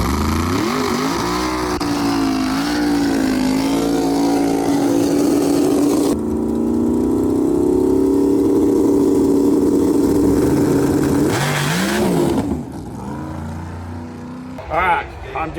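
An IROC-Z drag race car engine revs and holds high for several seconds, then drops back, under people talking, loud and close throughout.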